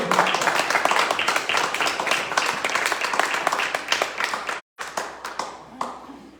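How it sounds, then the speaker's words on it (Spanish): A church congregation claps hard during a sermon, rapid rhythmic clapping from many hands with voices mixed in, briefly cutting out near the end before resuming and tapering off. "Dale fuerte el aplauso a Él."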